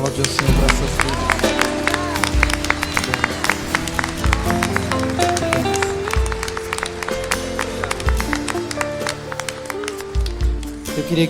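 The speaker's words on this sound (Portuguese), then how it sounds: "Vamos aplaudir o Senhor para essas vidas." A church congregation claps during a service over loud worship music with rhythmic bass and keyboard chords, the applause blending into the music and continuing throughout.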